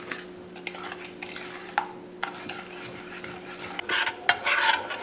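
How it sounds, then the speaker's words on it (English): BBQ short rib sauce is stirred in a pot, with intermittent scraping and rubbing strokes and light clinks against the pot, close by, growing busier toward the end, with no talking. "I'm gonna stir it"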